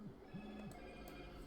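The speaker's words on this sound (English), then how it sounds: "That was my phone, not yours." A phone ringtone plays faintly in a short repeated tonal pattern, two quick rising-and-falling tones in a quiet room.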